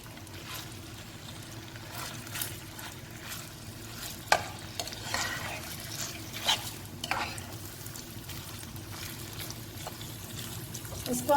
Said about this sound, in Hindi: तो इसको हम अब करते हैं फ्राई इसके अंदर, ऑयल के अंदर